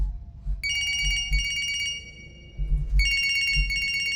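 A phone rings in the horror video game Siren Head, two long bright electronic ring bursts with a pause between, heard over a low rumbling game ambience and footsteps.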